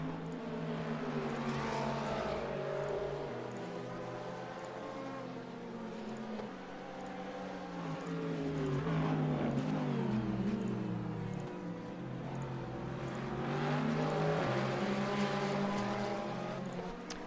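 Ferrari GT3 race car engine in a sim racing game at Laguna Seca, droning loudly and steadily with rising and falling revs through gear changes, a continuous onboard engine note with no talk.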